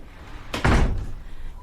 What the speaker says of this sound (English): Just shut the door.